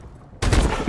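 Rapid gunfire in the video game Call of Duty: Advanced Warfare, a loud close burst of shots that starts abruptly after a quiet moment.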